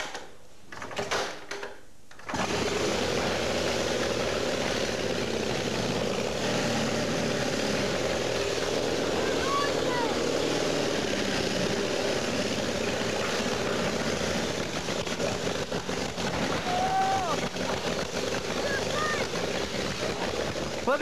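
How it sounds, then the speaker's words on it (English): A Model T Ford engine fires after a brief shuffle and then runs roughly at idle, a loud, steady, throbbing rumble close by that continues to the end with no speech over it. "Well, the engine sort of started, but it isn't exactly environmentally friendly"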